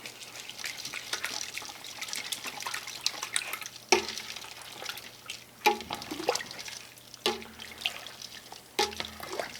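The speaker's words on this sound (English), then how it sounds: "And let's give this a good stir." A spoon stirs vegetable beef soup in a pot, giving wet sloshing and scraping with a few sharper clinks against the pot. It is fairly quiet, with no talking.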